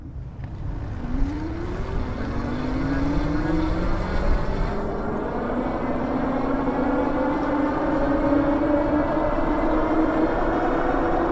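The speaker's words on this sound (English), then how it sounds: "So I'm going to show you here what the acceleration looks like using throttle only" Hovsco HOVALPHA e-bike accelerating on throttle alone, a steady motor whine rising in pitch as it speeds up, mixed with wind and road rumble, loud and continuous with no talking.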